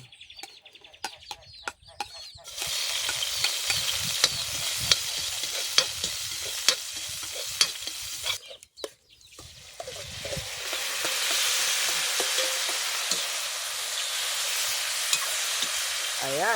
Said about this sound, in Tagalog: Gisa lang ako ng sibuyas tsaka bawang.